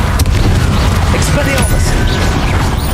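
Incendio fire spell cast in Hogwarts Legacy, a loud burst of blasting and whooshing combat effects, heavy and continuous over a short span.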